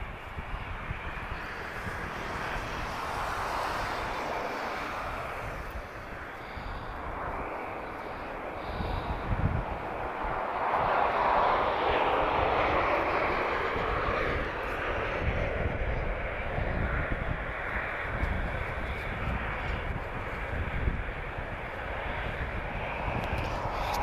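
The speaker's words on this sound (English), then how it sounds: "Tango Oscar 7648, Transavia France, just arriving from Paris" A Transavia France airliner arrives from Paris at Lisbon airport. Its faint, distant engine rumble builds slowly and swells midway, with a soft voice now and then.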